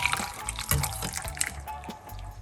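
Parlay tea being poured off, a soft liquid trickle and dribble with a few small splashes, faint and close, with no voices over it.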